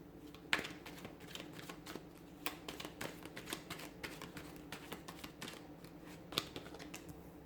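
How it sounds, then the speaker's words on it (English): Tarot cards are shuffled repeatedly, giving rapid riffling flutters and soft taps at close range in a quiet room. "we'll give the cards a shuffle"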